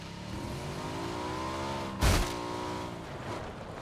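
A vehicle engine in the PUBG video game, a steady droning hum with a brief louder burst around the middle, no talk over it.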